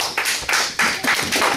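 A congregation applauds during a Sunday church service, with a short, close burst of dense clapping that rises and falls in quick waves.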